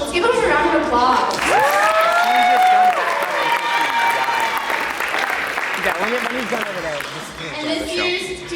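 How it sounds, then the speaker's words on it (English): An audience at a homecoming night applauds and cheers for the king candidates, a steady crowd roar lasting several seconds while a voice carries over it. "Let's give them a round of applause."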